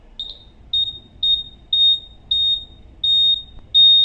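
A theft-detector alarm device in a jewelry shop beeps loudly and steadily, with about seven short, high electronic tones repeating at a quick, even pace over faint background noise.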